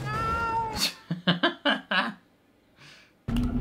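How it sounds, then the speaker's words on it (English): A cat in a film lets out a series of short, close meows and a drawn-out caterwaul, with voices talking just before and after. "You're a kitty cat."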